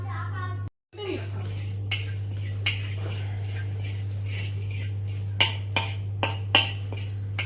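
Flaxseed roasts in a kadai while a spoon stirs, producing scattered sharp metallic clinks and scrapes over a steady low hum, with the clatter growing busier toward the end.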